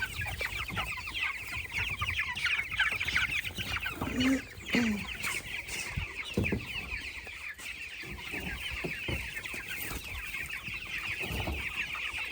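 Chickens cluck steadily at close range, with a busy flock murmuring throughout and a few sharper calls standing out.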